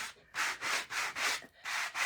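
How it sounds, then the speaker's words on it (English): Rhythmic scratchy rubbing of sandpaper on painted 2x4 wood, about six quick back-and-forth hand strokes, close and clear with no talking. "and I'm just sanding it a little bit"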